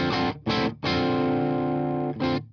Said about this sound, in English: There's nice crunches.